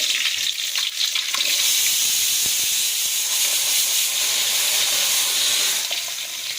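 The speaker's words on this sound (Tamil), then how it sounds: "நான் எண்ணெய் நெய் கடுகு ஜீரகம் வெந்தயம் போட்டிருக்கேன் பூண்டு" Mustard seeds, cumin, fenugreek and garlic sizzle steadily in hot oil and ghee, a loud, close, continuous hiss with faint crackles throughout.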